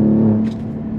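An Alfa Romeo Giulia Quadrifoglio's engine drones loud and close in a steady low rumble, easing slightly partway through with no voices over it.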